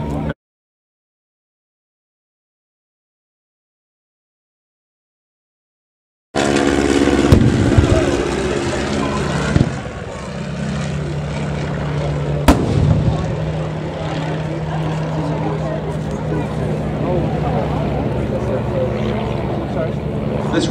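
Replica Sopwith triplane flying at a Great War air display at East Kirkby, its engine droning loudly and steadily after a silent gap, with a commentator talking over it throughout.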